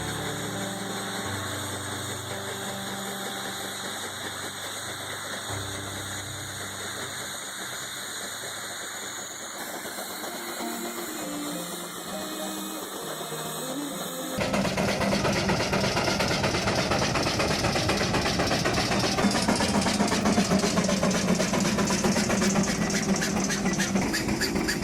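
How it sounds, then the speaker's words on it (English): A heavy steam traction engine runs steadily with a dense mechanical drone, then grows louder and rougher midway as the machine begins rolling forward across the ground, continuous and close with no voices. "As the rotation stabilizes, the massive machine begins to roll forward across the ground."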